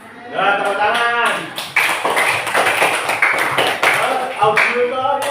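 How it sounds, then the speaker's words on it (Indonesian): A school class bursts into hand clapping together, a loud dense patter that fills the room while a teacher's voice and children's voices carry on over it. "Nah, tepuk tangan."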